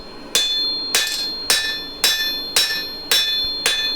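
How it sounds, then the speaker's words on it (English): Damascus steel for a bearded axe struck on an anvil with a hammer, seven sharp ringing blows at a steady, even pace, close and loud, each leaving a brief metallic ring. "you don't want to be just watching me endlessly hammering out on the anvil"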